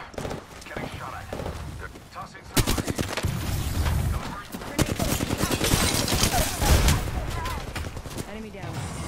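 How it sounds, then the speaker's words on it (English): Dense automatic gunfire from the Apex Legends video game rattles in rapid bursts, loud and near, with overlapping shots and impacts that stay continuous over the whole stretch. "Getting shot at."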